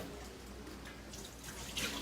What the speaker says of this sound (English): Catching some water to make what is known as the telge